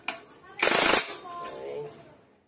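Power tool tightening a pipe fitting, a loud rattling burst of about half a second followed by quieter whirring and clicks that fade out.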